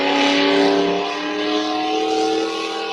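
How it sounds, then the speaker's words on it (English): A pulling tractor with a small-block engine at a tractor pull roars steadily at high revs, its loud, droning engine note holding close and sustained for a few seconds with slight shifts in pitch, and no talking. "She just bought this tractor at this pull, and she's learning this small block economod."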